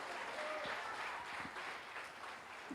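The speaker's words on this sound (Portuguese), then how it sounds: "Dê mais forte esse aplauso ao Rei" Church congregation applauding in worship, a continuous soft wash of clapping from a crowd, fairly quiet and distant, with no one speaking.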